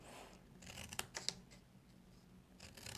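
Scissors snip through folded cardboard for a small gift box, a few quiet crisp cuts in a row, with soft handling rustle between them.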